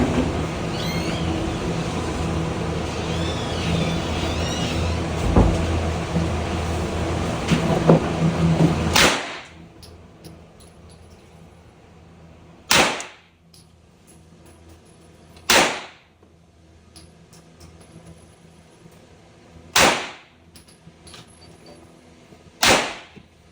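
Four sharp, loud single shots from an AK9 rifle crack out a few seconds apart, each ringing off briefly. They follow a stretch of dense, noisy rumble and clatter.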